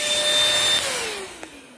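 A small, cheap bagless vacuum cleaner whirring loudly up close, its motor pitch sliding lower as it winds down, with a single faint click near the end.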